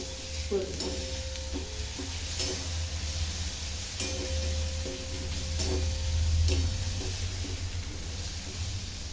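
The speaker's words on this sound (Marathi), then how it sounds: "पुन्हा पुन्हा उकडून कांदा परतून घ्यायचा" Onion fries with turmeric in a pan, giving a soft, steady sizzle. Intermittent clinks and scrapes come from stirring throughout.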